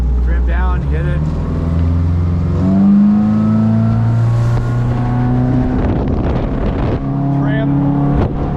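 A 2004 Sea Ray 180 BR boat engine running out on the water, a loud, close droning hum that rises and falls in pitch as the throttle changes, with wind buffeting the microphone.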